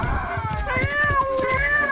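A cat meows repeatedly, close and fairly loud, with drawn-out, wavering cries and no other voices.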